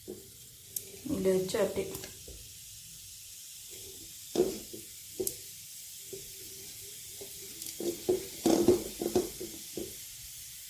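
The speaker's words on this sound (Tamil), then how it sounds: "பொட்டுக்கடலை போட்டு அதையும் இந்த எண்ணெயில் நல்லா பொரிச்சுக்கோங்க." Roasted gram (pottukadalai) fries in hot oil in a home kitchen while mixture is made, giving a soft continuous sizzle broken by a few louder stirring bursts, with brief talk now and then.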